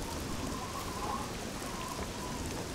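Steady rain pours through a roof inside a building in the SCUM survival video game, a continuous dense hiss with no talk over it.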